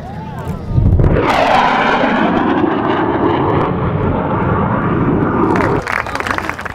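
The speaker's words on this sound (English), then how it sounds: "You're gonna see the jet go by, but you won't hear it until a few seconds later." A jet aircraft roars past, swelling in abruptly after a moment and holding as a loud, broad rushing engine noise before cutting down near the end, with a voice briefly audible.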